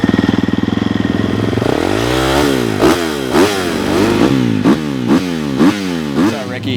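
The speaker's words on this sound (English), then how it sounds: "I can't wait to ride this awesome bike right now." 2024 Triumph TF250-X motocross bike, a 250 engine idling with a steady thump, then revving up and down in repeated sharp rising and falling bursts, close and loud, with a voice talking over it.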